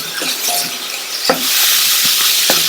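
Grated carrot, cabbage and finely chopped beans sautéing in a pan make a close, bright sizzle that swells halfway through, punctuated by a few sharp spatula taps and scrapes.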